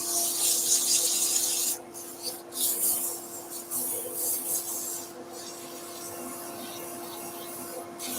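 Sandpaper rubs in a wooden egg cup, a soft dry rasping that comes in uneven strokes with a few short breaks, close and fairly quiet.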